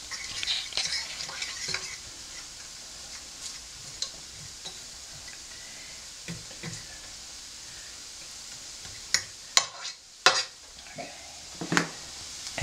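Goulash ingredients fry in a pan with a steady sizzle, joined later by sharp spoon scrapes and clinks against the pan.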